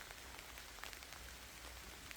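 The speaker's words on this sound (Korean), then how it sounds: "지금 개 물그릇에 빗방울이 떨어지고 있습니다." Raindrops patter into a dog's water bowl outdoors, a faint, steady scatter of small drips and ticks with no talking.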